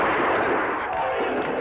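A single loud gunshot blast from a Lone Ranger western drama, a dense sustained roar filling the moment with no pause.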